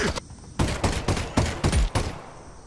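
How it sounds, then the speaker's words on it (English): Suppressing gunfire in the video game Half-Life: Alyx bursts out as a rapid run of close, loud shots with a few short gaps, sharp and cracking. "He's into suppressing fire. Suppressing fire!"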